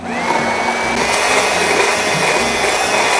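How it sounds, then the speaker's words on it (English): A blender whirs steadily through a lemon ginger tuna mixture, a loud continuous motor whine with a slight pitch lift near the start, held close and alone with no talking. "Now I'm keeping my blender up and down to get a little more air into there"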